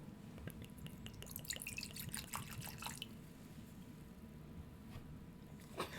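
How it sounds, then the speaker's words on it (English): Spilled bourbon drips off a tabletop in a quiet room, a run of small, faint, irregular droplet ticks over a low hum that thins out into sparse drips and near silence. "He just spilled bourbon all over my table."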